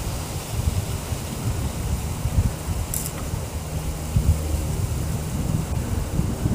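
Strong wind roars steadily across an exposed hilltop campsite, a dense low rumble of gusts buffeting the microphone with no voices.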